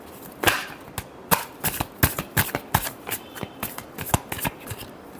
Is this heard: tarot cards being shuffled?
yes